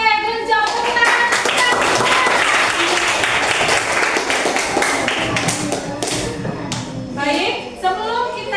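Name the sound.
classroom clapping hands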